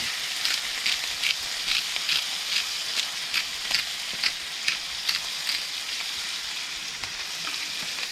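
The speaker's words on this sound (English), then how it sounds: "what we're going to do right now is chuck in those chops." Salt-and-peppered chops sizzle steadily in an oiled frying pan over an outdoor fire, a continuous hissing crackle with soft irregular pops, close and moderately quiet.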